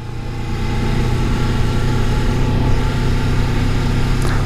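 A motorcycle engine drones loud and close while riding, a continuous throaty roar with a steady wind-like rush and no distinct break for each gear change.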